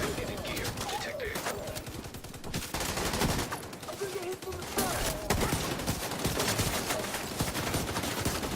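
Dense, continuous rapid gunfire from The Division 2, loud and sustained throughout, with a voice now and then faintly under the shots.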